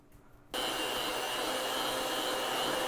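An electric mixer beating sifted powdered sugar into buttercream for a gluten-free carrot cake switches on abruptly after a quiet moment and then holds a loud, steady whirring hum to the end.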